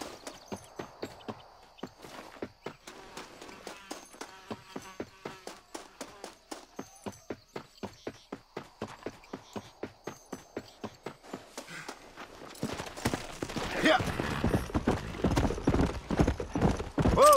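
Horse hooves clip-clop in a steady walking rhythm in the Red Dead Redemption video game, close and clear, with faint talk and other game sounds, before louder, busier game noise takes over near the end.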